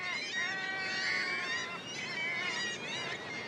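Kittiwake gulls at a cliff colony call to each other during courtship displays, a run of nasal, wavering cries that overlap and rise and fall for several seconds, fairly close and clear.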